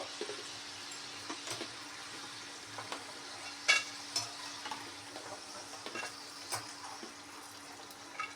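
Homemade french fries crisping in hot oil, giving a faint, steady sizzle with scattered small pops and crackles and no voices.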